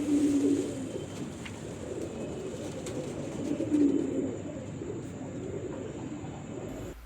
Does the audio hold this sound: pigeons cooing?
yes